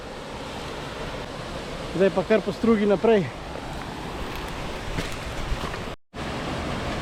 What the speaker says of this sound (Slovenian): Evo, to je prvi slap, se pravi prvi slap v zgornjem delu potoka